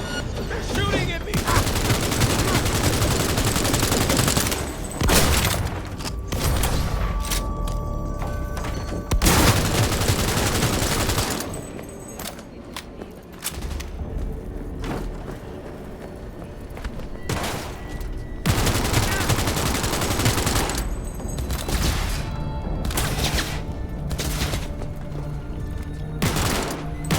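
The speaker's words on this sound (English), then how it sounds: "They're shooting at me!" Heavy gunfire in Cyberpunk 2077, loud bursts of automatic fire and volleys sounding almost continuously across the clip with short lulls, a voice talking over parts of it.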